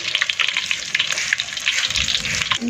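Banana blossom fish cakes deep-frying in oil, a steady dense sizzle with crackling bubbles running continuously throughout.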